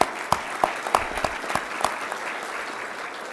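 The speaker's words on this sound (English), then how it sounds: "Give yourselves a round of applause." A conference audience of education staff gives itself a round of applause, a dense, continuous patter of many hands with a few louder, sharper claps standing out near the front.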